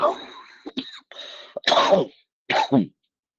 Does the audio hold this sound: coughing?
yes